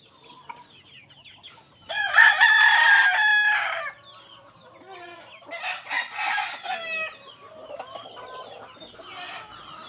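Fighting cocks in a pen give one loud close crow, followed by several shorter crowing calls and clucks at moderate volume.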